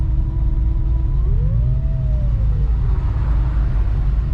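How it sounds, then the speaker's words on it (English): Infiniti G35 engine running steadily in a moving car, a continuous mid-pitched rumble with a rising and falling whine through the middle, constant and close throughout. "My car's making that noise again."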